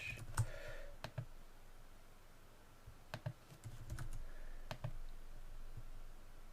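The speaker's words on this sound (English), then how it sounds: "If we put in the wrong password and click login" A password is typed on a computer keyboard, producing a sparse series of quiet, close key clicks in small irregular bursts with short pauses between them.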